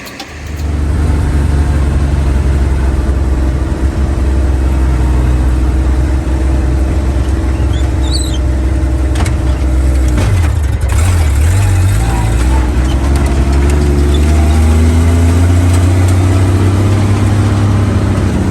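A Willys jeep engine runs loud and close in a steady drone, with the pitch shifting as it revs partway through.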